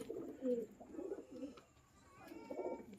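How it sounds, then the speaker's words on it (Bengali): Giribaz pigeons coo softly in low, rolling murmurs, a few close calls repeating over about three seconds against a quiet background. "এই যে দেখুন আমাদের এখানে গিরিবাজ একদম ফেমাস পায়রা"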